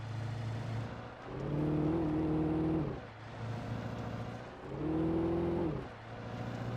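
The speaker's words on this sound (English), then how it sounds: "The truck kind of sounds like a growling" A truck engine in the video game Alan Wake growls at a low idle, then revs up twice in long rising surges before dropping back, close and steady between the two swells.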